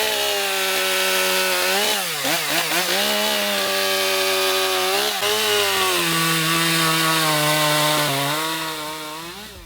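A STIHL chainsaw cutting through wood, its engine whining loud and close with pitch dips and rises as the chain bites and frees, running continuously for about ten seconds with no talk.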